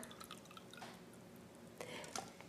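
Water that held onions poured into a container during a Kangen water demonstration, faint trickling and dripping with a louder splashing pour near the end, close and quiet, no talk.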